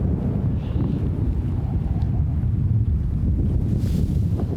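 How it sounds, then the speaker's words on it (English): Strong wind buffets the microphone at an exposed mountain campsite high in the Wind River Range, a continuous loud low roar and rumble with no talking. "Sorry if it's obnoxiously windy."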